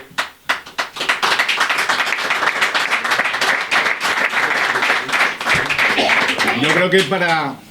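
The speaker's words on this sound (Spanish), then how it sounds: "gracias por esa ovación espontánea" Loud spontaneous ovation from an audience at a magazine launch presentation in Borriol, dense sustained clapping filling the room, with voices mixed in and a speaker beginning to talk near the end.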